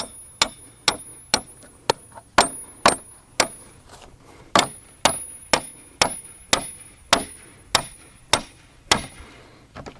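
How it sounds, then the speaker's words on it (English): A metal hammer drives a steel stake through the stake hole of a bracket for a backyard ice rink on a hard surface: about eighteen sharp, ringing blows in a steady, close rhythm, with no talk. "take a steel stake through the stake hole in the bracket, metal hammer for this one"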